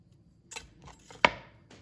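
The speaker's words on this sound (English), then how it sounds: "I'm going to cut this in half again." A knife slices a tablespoon-measured ingredient in half while making homemade German pretzels: a single sharp, close cutting click stands out, with a few lighter taps and knocks before it on a quiet kitchen counter.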